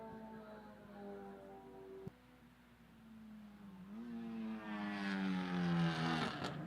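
Race cars, among them a BMW M3 from the Belgian Touring Car Championship, run through turn one at Lime Rock Park, their engines droning and rising in pitch as they rev and pass, moderately distant.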